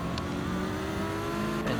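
Lamborghini Huracan race cars in Gran Turismo 7 roar in close company during a Manufacturer's Cup race, a steady loud engine drone holding throughout with slight shifts in pitch, no talk over it.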